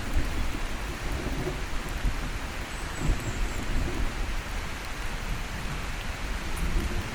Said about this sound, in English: I'm not sure if the rain that's coming down on me right now is from the trees or the clouds